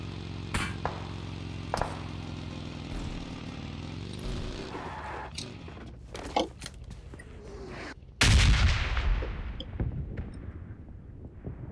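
Gunfire in the PUBG Mobile game on the Erangel map: sharp, scattered shots in quick succession, with a louder, denser burst of close fire in the final seconds over a steady game background.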